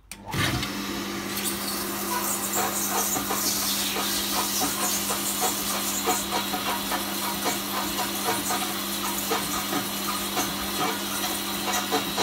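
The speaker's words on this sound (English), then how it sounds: "I'll also put the other pump on to fill the mash tun more." A brewery pump runs steadily to fill a mash tun, giving a continuous mechanical hum with a strong low drone and broad hissing rush that starts abruptly and holds loud and close throughout, with no talking.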